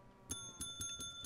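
A video game bell rings in a quick series of bright, metallic dings, about five strikes in close succession with a ringing tone that lingers, and no speech over it.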